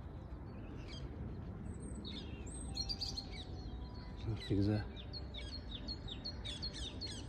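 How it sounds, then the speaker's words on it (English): Morning birdsong outdoors, with blue tits and ring-necked parakeets among the species: repeated high chirps and tweets over steady background noise, with someone speaking briefly partway through. "listen to the birds."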